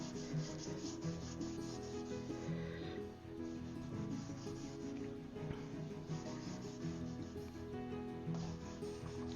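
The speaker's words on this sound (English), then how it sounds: "gently rub the surface to make sure that I make an impression on the black" A hand rubs steadily over the back of a painted leaf pressed onto black paper to make an acrylic print. It makes a soft, continuous scratchy rubbing close by, fairly quiet, with no voices.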